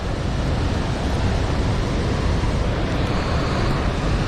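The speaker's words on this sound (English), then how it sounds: "Doggone river blowing out of that hole is so loud." A river gushing out of a hole in a cliff makes a loud, constant roar of rushing water, broadband and unbroken throughout.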